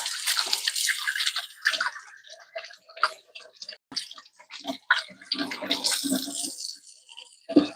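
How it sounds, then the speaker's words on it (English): Hands being washed under a running tap after handling pumpkin, with a steady broadband splash of water that keeps going throughout and shifts as the hands move, close and fairly loud. "let me wash my hands."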